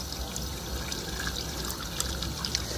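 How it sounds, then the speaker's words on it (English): Tap water runs steadily out of a hose being flushed, a continuous soft splashing trickle at close range with small irregular drips and no talk. "Just run a little bit out, flush that hose out a little bit."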